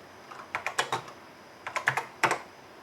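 Keys clack on the keyboard of a 1984 Tano Dragon computer whose right-side keys stick, in two quick bursts of several close, crisp presses separated by a short pause, with no talking.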